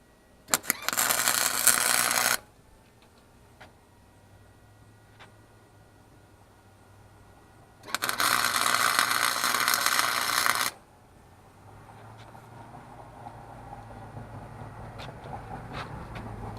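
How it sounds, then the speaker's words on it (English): Welding a seat onto a drift trike frame in a garage: two bursts of harsh, crackling arc noise lasting a few seconds each, separated by quiet stretches with faint clicks and hum. "We're about to start welding her in."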